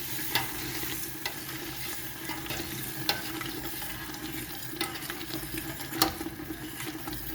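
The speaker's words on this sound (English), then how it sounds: "I'm going to give it a proper stir." Nigerian party jollof rice is stirred in a pot, with a soft continuous sizzle and bubbling broken by sharp scrapes and clacks of the spoon against the pot, close and without speech.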